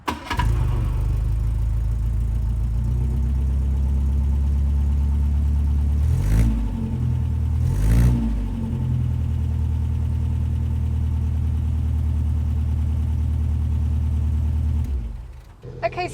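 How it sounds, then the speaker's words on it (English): An Austin Cambridge A60 with its B-Series engine idles steadily from just behind the car, a low, even rumble with two brief blips of revving partway through before it cuts off near the end. "That B-Series engine sounds so nice."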